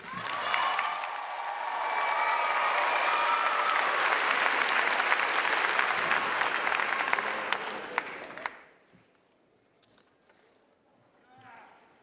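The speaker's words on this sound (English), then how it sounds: "Let's give a round of applause for our Val and our Sal of Alfred Eli Beach High School." Sustained crowd applause at a high school graduation ceremony, building quickly and holding loud for about eight seconds before fading out, followed by faint room noise.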